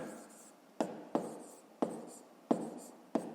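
Chalk or marker writing out a math expression on a board, heard as a steady scratchy stroke broken by five sharp taps spaced about half a second apart, close and alone.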